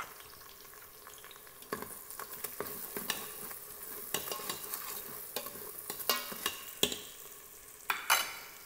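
Green chillies frying in ginger garlic paste for mutton biryani, a steady soft sizzle with frequent scraping and tapping of a spoon stirring against the pot, close and moderately quiet.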